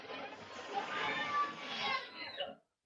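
A small tinny crowd effect plays back from a Tronsmart Halo 300 Bluetooth speaker, a blur of mixed voices and murmur, then cuts off abruptly.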